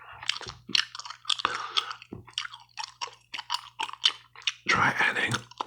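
Gum chewed close to the microphone, with a rapid run of wet, sticky smacks and squishes in an uneven rhythm, loud and intimate with no talking.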